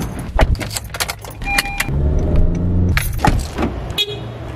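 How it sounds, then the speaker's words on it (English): People getting into a car: keys jangle, doors thump shut and a short horn toot sounds, followed by the engine starting and running under more clunks and rustling, with no speech. "Audio montage of us getting in the car."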